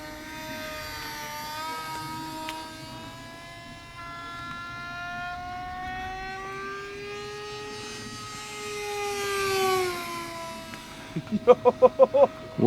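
A Durafly MFX Racer, a 715/815mm EPO foam RC plane running on a 4S battery, flies on its maiden flight. Its electric motor gives a steady whine that rises and falls in pitch, with a few rapid pulsing bursts near the end.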